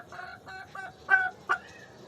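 Chickens cluck softly at close range while being fed, a series of short, fairly faint calls with a couple of louder squawks near the end, and no talk.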